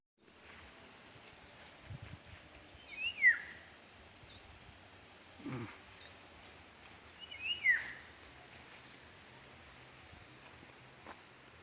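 Birds calling outdoors near coconut trees in rural Leyte: a few short, faint chirps and whistles spaced apart against quiet background hiss, with soft rustling between them.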